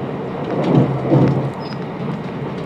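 Steady low rumble of a Great Western Railway Class 387 passenger train rolling along, with a broad hiss and a couple of swelling surges, continuous and fairly close.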